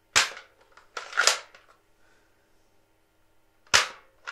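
A dart gun fires at red and pink balloons, giving three sharp, close cracks, two fairly close together and a third after a pause, with no talk.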